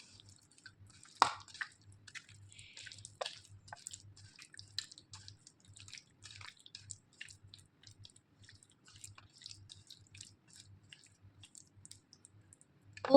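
Raw chicken pieces being mixed by hand with a beaten marinade for chicken 65, giving soft wet squishes and sticky clicks in uneven bursts, close and fairly quiet, with a low steady hum underneath.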